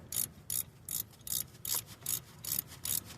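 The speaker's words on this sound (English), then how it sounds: "So I'm just gonna tighten this back up" A ratchet tightens a bolt on a 2012 Chevy Equinox 2.4L, eight quick evenly spaced clicking bursts, close and clear with no talk.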